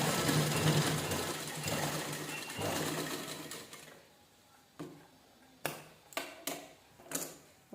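A sewing machine stitches a folded blouse neckline strip, running steadily for about four seconds, then falling quiet apart from a few sharp clicks and short bursts.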